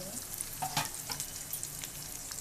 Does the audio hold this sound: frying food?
yes